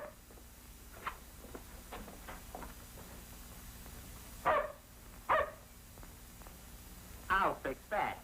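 A dog gives several sharp barks, a pair near the middle and a tight cluster near the end, moderately close over a quiet room with faint voices and background hum.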